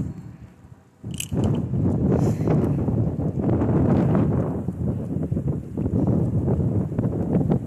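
Crosswind buffets the microphone during a bike ride, with gusty, uneven rushing and thumping that bursts in suddenly after a quiet second and keeps pulsing loud and close with no talk.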